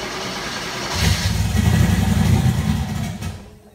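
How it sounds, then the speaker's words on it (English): A turbo Porsche engine with a freshly rebuilt CIS fuel head cranks and tries to catch, a loud, rough low rumble swelling for a couple of seconds before fading out, close to the microphone with no talk. "50-50 shot that it starts on the first try. So we're gonna give it a go, see what happens. Fuel pump's on."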